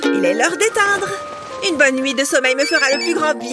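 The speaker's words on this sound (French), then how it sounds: "Hein? C'est mon téléphone, ça? Où est-ce qu'il est?" A mobile phone ringtone plays a bright electronic melody of sustained tones at moderate volume, running through most of the moment alongside a person speaking in French.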